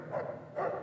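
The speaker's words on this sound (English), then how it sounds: "Shut up, dog. Don't give it away." A dog in Fallout: New Vegas gives two quick, muffled barks a half second apart, moderately quiet.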